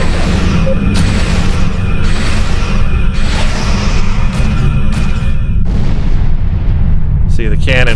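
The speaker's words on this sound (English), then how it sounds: "See, the cannon will go bam, bam, bam." Heavy cannon fire from a Hirogen Apex Heavy Battlecruiser in Star Trek Online, a dense run of booming blasts over a constant low rumble, with sharp whooshing bursts near the end.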